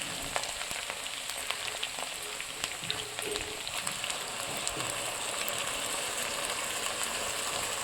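Ginger, garlic, tomato and chili paste fry in hot oil for a village-style tilapia and potato curry, giving a steady, even sizzle and crackle that runs the whole time with no voices over it.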